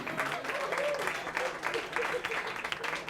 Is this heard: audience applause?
yes